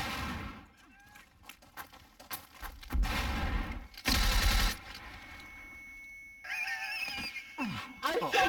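Video game gunshots ring out in a few loud, sharp bursts among quieter game sounds and clicks, with someone talking in between.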